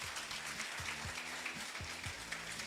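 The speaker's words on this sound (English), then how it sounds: "give James and Brent a big round of applause as well" A crowd at a real-estate team-building event applauds James and Brent with steady, dense clapping that fills the room from start to end. Low, rhythmic thumps sit beneath the clapping.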